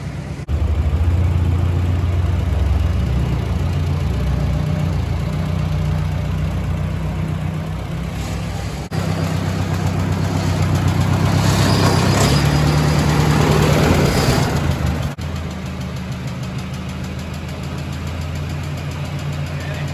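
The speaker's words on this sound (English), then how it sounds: "We're gonna use the little tractor and swing her around." A small tractor engine running steadily at a low idle rumble close by, revving up briefly midway, with people talking over it.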